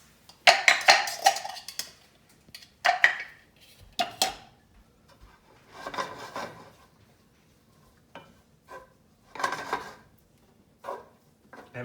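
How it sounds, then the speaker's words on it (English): Mushrooms sauteing in a pan for risotto: scattered clinks and scrapes of a utensil against the pan come in short separate bursts with quiet gaps, with only a faint sizzle underneath. "We will saute the mushrooms for a couple of minutes."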